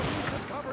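Heavy gunfire in The Division during a firefight, a dense, continuous burst of overlapping shots filling a short moment, loud and close.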